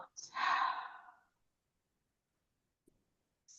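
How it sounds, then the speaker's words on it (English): A single slow, deep breath, loud and close, fading after about a second, followed by near silence and a faint breath sound at the end. "I invite you to intentionally breathe in and breathe out."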